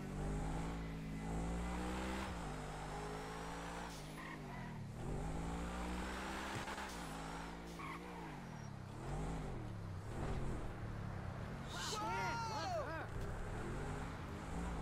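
A fast car's engine revs and roars in Grand Theft Auto V, rising and falling through repeated throttle bursts over several seconds, with someone talking over it.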